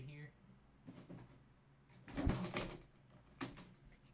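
A gear drawer pulled open, with a short rumbling slide and a clatter of loose equipment inside, heard up close while a person talks nearby.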